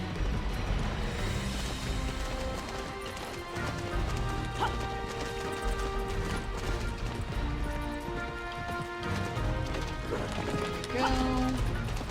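A horse galloping in the Petz Horse Club video game, hoof clip-clops running under game music and crowd ambience, with a voice talking over the action.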